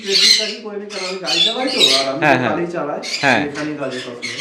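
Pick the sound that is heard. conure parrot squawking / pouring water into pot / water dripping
conure parrot squawking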